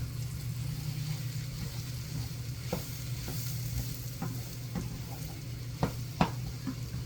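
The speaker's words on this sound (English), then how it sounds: "A little more olive oil in that pan, and the mushrooms will go in." Mushrooms sizzle steadily in olive oil in a skillet, a close continuous frying hiss with a low hum beneath and occasional sharp clicks and pops from the pan.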